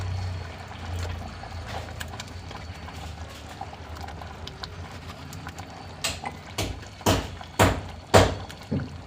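Fish pieces dropped one at a time into a pot of boiling fish curry, a series of soft thuds and splashes that grow louder and quicker toward the end over a steady bubbling hiss.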